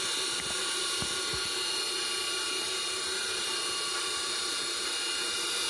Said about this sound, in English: You can see the motor is running on its full speed.